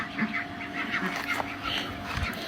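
Ducks and geese kept in a yard call with scattered quacks and honks over a steady outdoor background, fairly close, with faint human voices mixed in.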